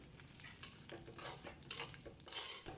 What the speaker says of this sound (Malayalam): നമ്മൾ ഇതിലാണ് കേട്ടോ ഉള്ളിയൊക്കെ വഴറ്റിയെടുക്കാൻ പോകുന്നത്